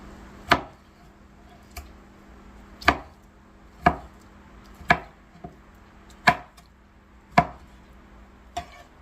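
Fried tofu is sliced on a cutting board for tokwat baboy, giving eight sharp, close knife chops at an uneven pace of roughly one per second, each followed by quiet.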